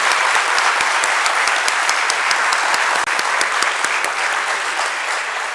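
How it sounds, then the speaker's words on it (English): Dense, sustained applause from an audience at a stock exchange listing ceremony for a financial advisory firm, loud and steady with sharp individual claps standing out throughout. "let's have a huge round of applause for DAM Capital Advisors Limited team"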